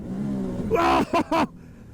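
An off-road vehicle engine revs loudly and close by while driving through mud, in three short, sharp bursts: one longer surge followed by two quick blips over a low rumble.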